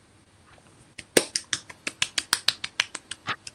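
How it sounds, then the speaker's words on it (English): Scattered hand clapping comes through a video call after a poetry reading, a quick run of about a dozen sharp, fairly even claps that sound thin and slightly distant, with no talking over them. "I can hear clapping."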